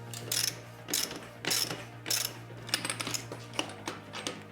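Wrench loosening the back wheel nut of a BMX bike, close ratcheting clicks in short rhythmic bursts over a faint steady hum, with no voices.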